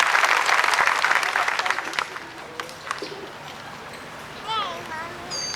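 A crowd applauds to welcome Governor Ronnie Musgrove at a Houston event, strong clapping that fades after a couple of seconds into a quieter space where birds coo and call, with brief voices.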